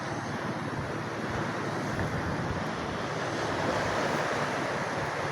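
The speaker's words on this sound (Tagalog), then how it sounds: "puputok yung alon." Sea waves break continuously near the shore in a dense, steady roar of surf and wash, loud and unbroken, with no voices.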